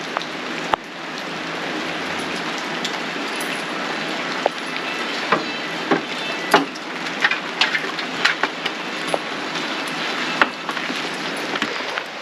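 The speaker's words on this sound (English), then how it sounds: "it is a rainy morning. I mean, it's been pouring since when?" Heavy rain pours steadily at a campsite in the morning, a dense continuous hiss with scattered sharper drips and taps on nearby surfaces, close and loud throughout with no talking.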